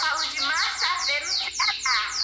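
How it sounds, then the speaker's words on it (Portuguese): A small bird sings a quick series of high chirps and descending whistled notes, fairly close and clear, heard alone over a quiet background. "Até o passarinho cantou."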